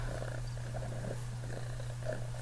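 A cat purrs steadily and close up, a low continuous rumble with no talking.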